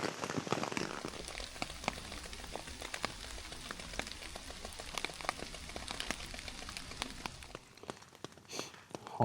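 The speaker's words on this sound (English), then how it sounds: "It's still raining, although it's pretty light at the moment" Light rain falling on a tarp in autumn woodland, heard from underneath as a steady, close patter of many distinct drops, easing slightly toward the end, with no voices.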